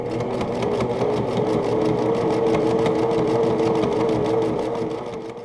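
Sewing machine zigzag stitching through quilt fabric and batting, a fast, even mechanical chatter running steadily at close range for several seconds before easing at the end, with no talk.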